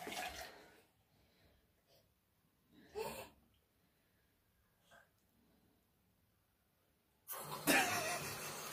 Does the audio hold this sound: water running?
yes